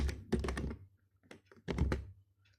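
Short bursts of keystrokes on a computer keyboard, two clusters of close, crisp taps with a few isolated clicks between, in a quiet room with no talking.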